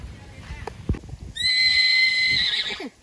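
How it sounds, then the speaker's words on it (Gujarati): A horse lets out a loud, drawn-out whinny close by, lasting over a second, after a few soft thuds and faint background voices. "ઘોડો આવ્યો"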